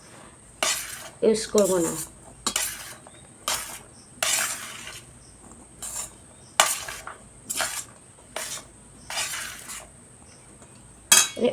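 Sabudana batter stirred in a bowl, repeated bursts of utensil scraping and clinking in an uneven rhythm, close, with a brief voice speaking in between.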